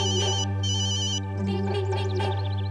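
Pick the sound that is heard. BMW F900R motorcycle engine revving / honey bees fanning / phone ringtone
phone ringtone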